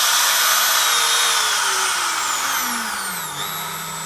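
A Makita power tool on a long mains cable runs at full speed with a loud, high-pitched whine, its pitch gliding gradually lower as it settles, with no voices.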